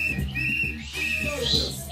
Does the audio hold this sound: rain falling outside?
no